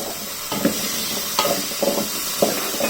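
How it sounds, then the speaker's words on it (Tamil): Potatoes being stir-fried in a pan with salt added, a continuous close sizzle broken by periodic scraping stirs, no talking. "சால்ட் ஆட் பண்ணி 10 செகண்ட்ஸ் நல்லா வதக்கி விடுங்க"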